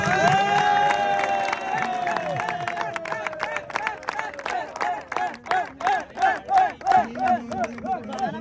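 Crowd at a tug of war event erupts in loud cheering, shouting and clapping, a dense roar that keeps going, then settles into rhythmic chanting pulses toward the end.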